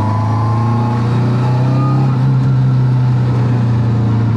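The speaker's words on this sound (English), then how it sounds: "And when you get on the gas, the gears whine." Ford Escort race-style car pulling hard under throttle, a steady loud engine drone with a whining gear tone riding over it, close and continuous with no talk.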